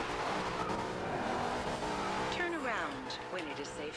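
A car spins out in the Forza Horizon 2 racing game, with an engine droning steadily and a tire squeal sweeping through near the end, all under continuous talking.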